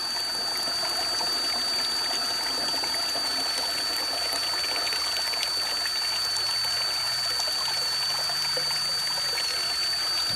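Water draining from a hanging filter bag of DAF sludge slurry into a bucket, a steady continuous trickle and patter with a faint constant tone over it, close and moderately loud, no voices.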